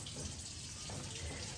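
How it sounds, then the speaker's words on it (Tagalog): Tap water runs steadily into a kitchen sink during cleaning, a continuous broadband rush with no pauses, moderately loud and close. "ang aga-aga ni Neil dito naglinis sa lababo"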